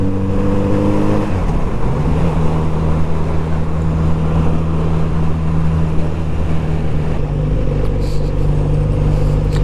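A Kawasaki Z900RS motorcycle exhaust drones steadily while riding, a loud, low, even hum that shifts pitch once early on as the bike changes speed, with wind noise throughout.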